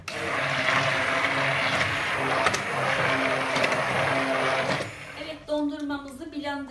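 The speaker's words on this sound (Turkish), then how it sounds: "Dondurmamızı blenderla 5 dakika çırpacağız." Cocoa ice cream mixture being whipped with a blender, a steady whirring motor drone for about five seconds, then it cuts out and a voice speaks.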